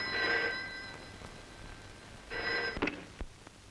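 A telephone rings indoors in two short bursts, a bright trilling bell tone that stops and starts again. A few soft knocks and handling sounds follow.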